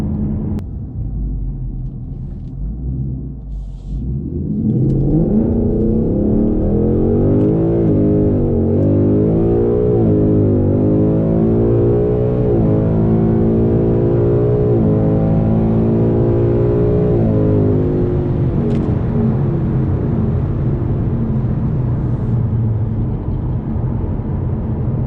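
A 2018-2020 Ford Mustang GT PP1 with a 10-speed automatic on Pilot Sport 4S tires launches hard with wheelspin. Its deep V8 roar builds loud and steady through rising, wavering engine tones, heard from inside the car.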